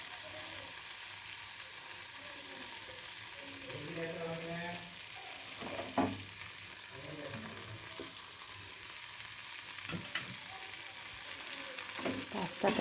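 Boiled pasta tossed into a frying pan, a faint steady sizzle with occasional spatula knocks and clatter, and a voice speaking briefly partway through.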